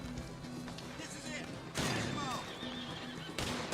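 A horse in the Red Dead Redemption video game gives loud whinnying neighs in two sharp bursts, with hoof clip-clops and a thud in between and a game character's voice speaking over it.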